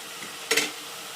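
Sprouted horse gram is stirred in hot tempering for sambar: a faint, steady sizzle broken by one brief, sharp scrape-and-crackle burst of stirring.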